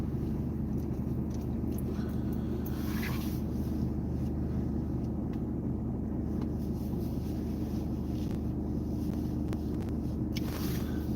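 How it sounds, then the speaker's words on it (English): A boat engine runs continuously with a loud, steady low rumble and drone throughout, close by, with wind noise over the microphone and no pauses. "Turn my engine off a sec."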